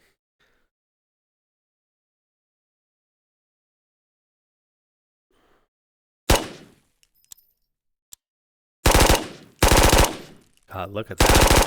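Automatic gunfire in a video game comes in a loud single burst, a few isolated shots and then several sustained rapid-fire bursts after a long near-silent stretch, with a short spoken remark in between.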